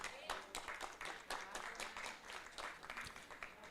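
Clapping from a conference audience rises to a steady, fairly faint applause, many hands at an even pace for a few seconds, with a little voice mixed in underneath.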